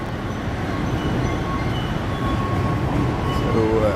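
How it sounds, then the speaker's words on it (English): A Chicago elevated train pulling into State and Lake Station, a loud, steady rumble of rail cars with a faint squeal near the end, heard up close from street level. "This is the train just pulled into the State and Lake Station here."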